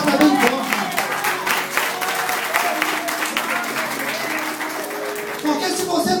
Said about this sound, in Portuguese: Se é para Jesus, essas palmas batam bem forte.